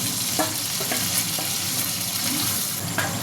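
Fried potato and cauliflower tossed back into a hot oiled pan with cashews and raisins give a steady, close sizzle with soft stirring scrapes and a few clicks throughout.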